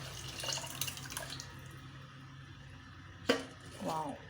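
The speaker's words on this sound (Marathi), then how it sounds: "याच्यामध्ये ही मी शिजवलेली डाळ ओतते" Cooked lentils poured into hot oil in a pan for sambar make a soft, quiet wet splash and faint sizzle, with a few brief clinks and a sharp knock near the end.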